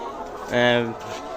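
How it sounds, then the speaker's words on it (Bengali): A single short, hoarse cluck from a laying hen stands out close by against a quiet background inside a laying-hen shed, with no talking. "এটা হচ্ছে আমাদের ডিমের মুরগির শেড।"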